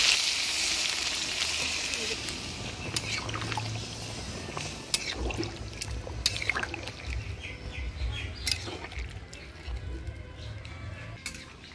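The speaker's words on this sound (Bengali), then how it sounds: "এবারে জল দিয়ে দিচ্ছি" Water poured into a pan of meat and potatoes frying in oil, a steady sizzle with occasional clinks of pot and utensil throughout, with faint voices under it.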